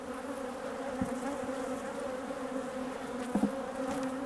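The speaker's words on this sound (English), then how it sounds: "Because I am actually shaking the bees in" Honey bees shaken into a brood box make a loud, steady droning buzz, broken by a couple of dull knocks of frames and box as they land.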